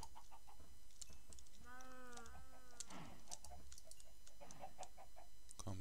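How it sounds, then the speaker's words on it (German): Chickens in the Minecraft mod pack Hexxit give a short series of clucks and squawks in the middle, amid steady game ambience and a few small clicks. "Hühner."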